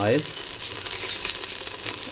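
Steady hot-oil sizzle crackles continuously in a pressure cooker on an open flame for the whole stretch, with a brief tonal clink at the very start.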